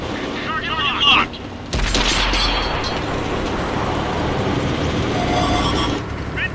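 A Pershing tank cannon fires an APCR round in a video game: one sharp loud boom, then a heavy rumbling roar of the tank that carries on under a voice talking.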